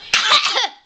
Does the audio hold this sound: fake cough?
yes